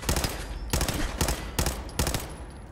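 Rifle gunfire in the video game Fallout 4, five loud close shots in a quick, slightly uneven rhythm, each a sharp crack with a short echoing tail, no voices.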